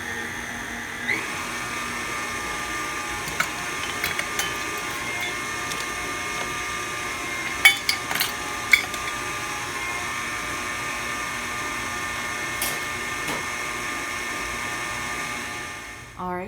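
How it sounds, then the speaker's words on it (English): A blender whirs steadily as it mixes wet ingredients for cookies, a continuous mid-level motor hum running alone for about sixteen seconds with a few faint clicks before it cuts off at the end. "let's start blending"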